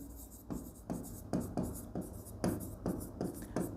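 Marker or chalk writing on a board during an accounting lesson on a company balance sheet, quick rhythmic scratchy strokes repeating close by, with someone talking in between.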